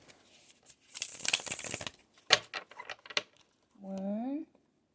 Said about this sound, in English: let's shuffle 3 more times